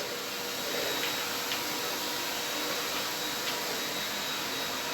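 A vacuum cleaner runs continuously as a child sweeps the floor, a loud steady hissing whine with no break and no talk over it.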